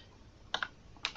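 A few quick keystrokes tapped on a computer keyboard, close but fairly quiet: a short cluster of clicks followed by another pair moments later.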